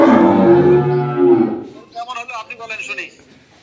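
A cow on a farm gives a deep, loud, drawn-out moo lasting over a second, followed by someone talking nearby.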